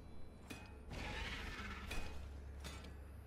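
Creature in A Quiet Place: The Road Ahead smashing things: three sharp crashing impacts with shattering debris and clattering, spaced about a second apart over a continuous low rumble.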